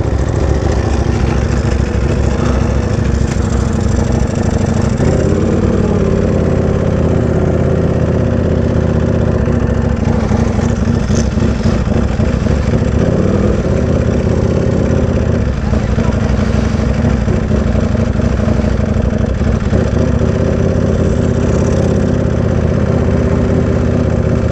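A Ducati Panigale V4R motorcycle idles roughly, as if close to stalling, at a bike event. The engine runs steady, loud and close for the full stretch, with voices talking over it.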